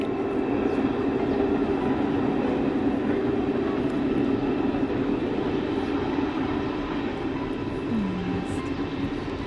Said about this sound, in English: Finally the train arrives on the bridge.